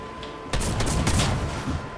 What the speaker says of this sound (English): Drum shotgun!